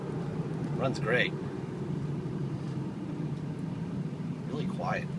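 A 2004 Ford F350 King Ranch with the 6.0 turbo diesel idles quietly in a steady low rumble, with brief chirps and sounds from a person nearby breaking through now and then.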